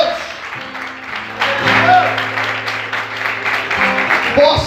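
Sustained clapping from a congregation fills the space, rising midway and continuing steadily, with organ-like tones and voices underneath.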